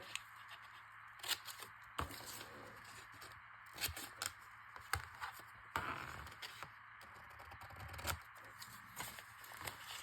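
Scissors cut through napkin paper up close, a series of quiet, crisp snips spaced irregularly, with soft paper rustling between them.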